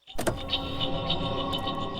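Someone gets into a car: a close door thud, then the steady whirring hum of a power window motor.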